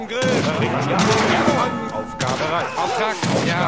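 Musket volleys and battle noise from a real-time strategy game, Age of Empires III, with musketeers firing on pikemen and hussars on the Siberia map; dense, continuous crackling gunfire and thuds fill the stretch at steady loudness.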